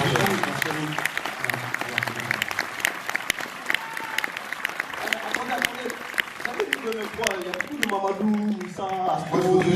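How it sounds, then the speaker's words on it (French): An audience applauding at a film premiere, with sustained dense clapping close by and voices talking and calling out over it throughout. "on peut les applaudir"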